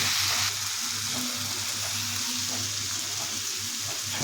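Pointed gourd and potato frying in a pan give a steady, dense sizzle that holds evenly throughout, close and fairly loud, with a low hum underneath and no talking.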